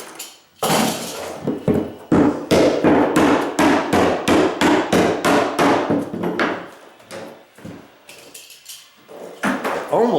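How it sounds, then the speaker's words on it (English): A hammer drives nails into carpet tack strip along a floor edge, a close, loud series of sharp blows in quick regular rhythm, pausing briefly before a few final strikes. "they gotta be careful when they're hammering it down"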